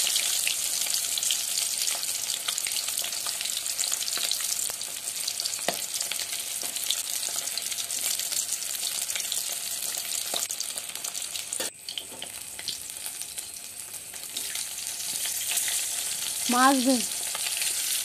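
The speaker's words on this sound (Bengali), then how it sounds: "অপর পাশ ভেজে নেব এবং এভাবে উল্টে পাল্টে লালচে করে ভেজে নেব" Pieces of katla fish fry in hot oil for a Bengali-style kalia and are turned over now and then, giving a loud, steady sizzle throughout with a brief clatter midway and a short warbling chirp near the end.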